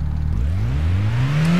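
A Mazda MX-5 engine in Gran Turismo revs up from a standstill, its tone climbing smoothly and steadily, loud and close with no voices.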